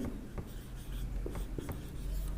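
Chalk or marker strokes tap and scrape on a board during a class 6 maths lesson, a handful of short separate marks over steady room hiss, with no talking.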